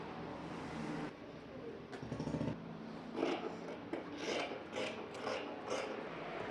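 Scissors cutting through fabric for a lace collar neck kurti, close rasping snips and rubbing of cloth in uneven bursts, quiet, with brief handling noises between cuts.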